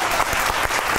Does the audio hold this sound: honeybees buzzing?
no